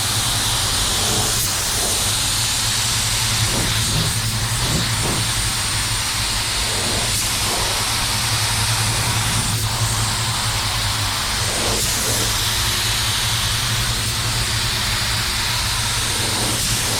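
A spray gun misting blender onto car paint, a continuous close, loud hiss of air and atomised spray lasting throughout, with faint intermittent clicks and a low hum underneath.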